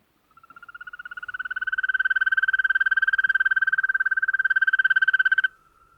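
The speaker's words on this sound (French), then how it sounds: "Un monsieur grenouille anonyme a bien voulu nous faire une démonstration." A frog calls in a steady, continuous trill lasting about five seconds, a rapid pulsed croak that swells in loudness, holds close and loud, then stops abruptly.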